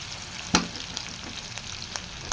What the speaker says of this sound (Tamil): வெங்காயத்தை நல்லா பொன்னிறமாக வதக்கி விட்டுக்கலாம்